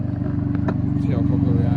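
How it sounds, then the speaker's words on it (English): A motorcycle passes close by, its engine putting out a loud, rhythmic low thrum with some clatter on top, while a person talks over it. "hang on, we'll let this motorcycle go by"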